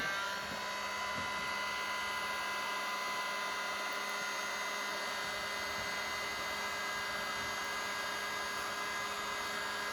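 A heat gun blows a steady, unbroken whine and rush of air while warming vinyl wrap trim on a 2002 Club Car Carryall golf cart, close up and constant throughout.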